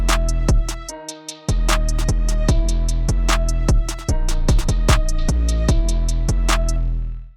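A produced beat of piano, drums and violin played dry with no effects, loud and steady with punchy rhythmic drum hits over sustained piano and string tones and a brief break near the start.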